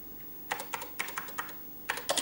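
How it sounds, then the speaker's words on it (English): Typing a program listing on the keyboard of a Pioneer PX-7 MSX home computer, with bursts of crisp, close key presses in an uneven rhythm and short pauses between clusters, no talking. "I'll just type in a bit of this listing."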